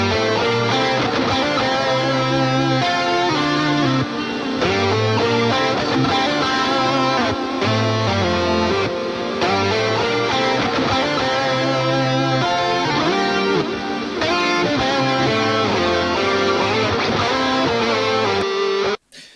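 A dense, continuous band plays lead guitar with a shimmering chorus effect over heavy layered backing, joined by synthetic vocoded harmonies throughout.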